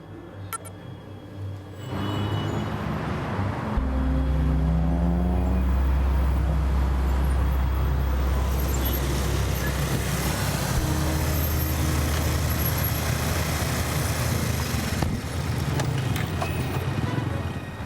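A motorcycle pulls away and rides off through traffic, its engine rumble rising sharply after a quieter start, then holding as a heavy, steady drone over background road noise for most of the stretch.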